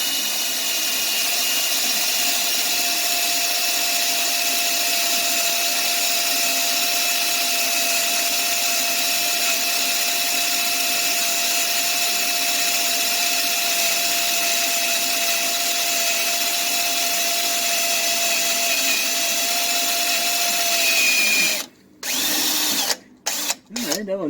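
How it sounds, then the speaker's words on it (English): Dull drill bit boring into metal during a 1966 Dodge Dart restoration, a steady loud whining drone that runs unbroken for about twenty seconds before cutting out in a few abrupt stops. "I am getting chips, but this isn't the sharpest drill I have."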